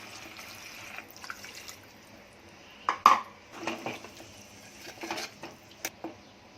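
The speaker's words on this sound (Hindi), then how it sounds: "अब इसमें पानी डालूंगी" Water goes into a pot of Konkani-style drumstick curry in a few short splashing bursts, mixed with light clinks of the pot and utensil, over a quiet kitchen background.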